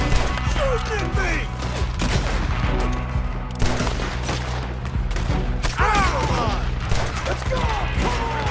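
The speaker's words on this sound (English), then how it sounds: "Stop shooting me." A chaotic Red Dead Redemption 2 shootout with rapid overlapping rifle and pistol shots and thuds, loud and continuous, while people shout and talk over the gunfire.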